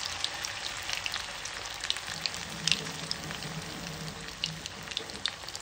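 Prawns deep frying in oil over a low flame, a soft continuous sizzle scattered with light pops and crackles, fairly quiet and close, with no voices.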